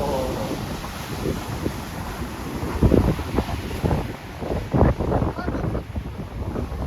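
A stormy sea heaves with rough waves while strong wind buffets the microphone in gusts, loud and close throughout.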